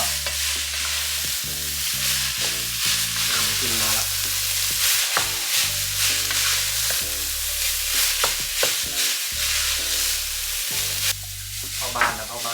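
Garlic and beef being stir-fried for kaphrao in a hot pan or wok, producing a loud continuous sizzle with repeated scraping and tossing strokes close up.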